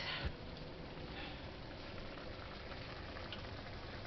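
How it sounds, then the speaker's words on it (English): A pot of taco meat bubbles and hisses steadily on the stove, an even, quiet simmering rumble with no voices. "we're just going to let that boil down"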